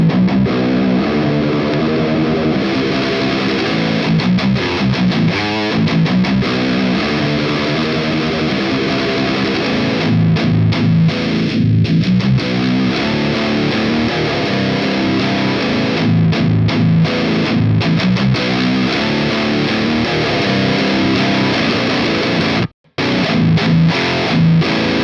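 Music pushed through a chain of guitar pedals with heavy distortion, a thick, saturated mix playing steadily and loud for the whole stretch, broken only by one brief dropout near the end.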